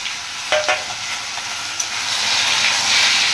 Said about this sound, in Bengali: কড়ায় তেল দিয়ে আলুটাকে ভাজতে দেওয়া হয়েছে।